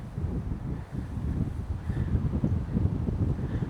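Wind gusting steadily across an exposed mountain ridge in California's North Coast mountains near Lassic Peak, a broad low rumbling buffet against the microphone that continues for the whole stretch with no voices.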